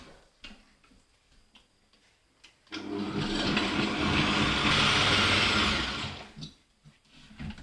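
Kitchen blender whirring as it purées nettles, a loud steady roar starting abruptly after some quiet clinking and running for about three and a half seconds before cutting off.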